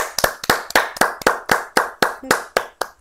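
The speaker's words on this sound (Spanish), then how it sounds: "Un aplauso para ese público." A studio audience claps in unison for viewers, about a dozen sharp, evenly spaced claps in a steady beat, each crisp and loud with a short ring after it.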